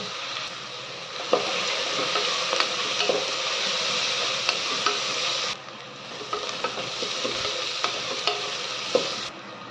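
Sliced onions fry in a pan with green chilli strips, rock salt and a pinch of turmeric, giving a steady close sizzle with repeated scraping stirs; the hiss drops briefly midway and then resumes.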